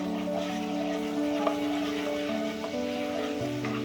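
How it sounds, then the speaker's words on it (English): Asafoetida (hing) powder sizzling in hot butter with a little oil while cooking lobster masala, a steady close frying hiss with faint bubbling and a soft clink, no talking. "once the butter is nice and hot, add the asafoetida powder"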